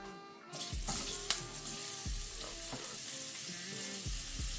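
Onions hit a hot pan and start frying for a Jamaican cornmeal and curry salmon dish, a sudden loud sizzle that settles into a steady crackling hiss with occasional stirring knocks.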